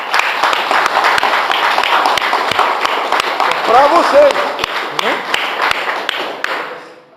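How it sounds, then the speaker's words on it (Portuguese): A church congregation at a youth ministry service claps, sparse sharp individual claps against a crowd wash that fades out at the end, with someone speaking over it. "Vou dar uma salva de palmas."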